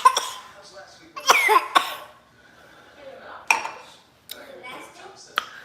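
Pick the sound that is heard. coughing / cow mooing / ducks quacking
coughing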